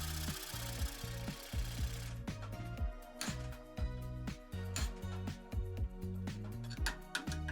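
A power tool cutting through a metal track bar bushing sleeve on an OBS Ford F-250/F-350, heard as a loud grinding whine at first, then a rhythmic series of repeated rasping strokes close to the microphone.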